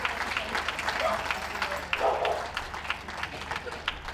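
Spectators at the Richmond dog show clap and cheer for the departing group winners, sustained applause with scattered sharp claps under a voice talking over a loudspeaker.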